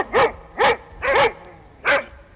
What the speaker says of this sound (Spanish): Los perros ladran